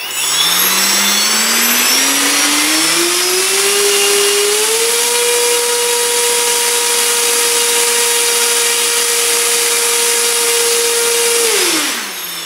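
An electric model aircraft motor drives a propeller with bent-down blade tips, its whine rising steadily in pitch, holding a loud steady high tone for several seconds, then winding down.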